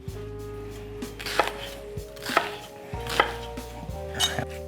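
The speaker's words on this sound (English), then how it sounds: "Let's cut some celery." A knife chops celery on a cutting board in a kitchen, giving about five or six sharp, evenly spaced knocks over a quiet background, close and clear with no talking.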